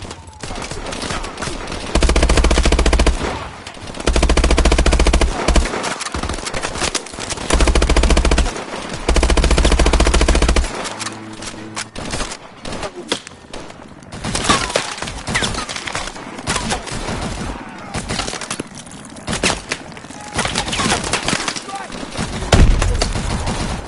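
Heavy automatic gunfire from the Advanced Warfare video game campaign, with long, loud machine-gun bursts in repeated stretches, then scattered shots and impacts while voices speak over the combat.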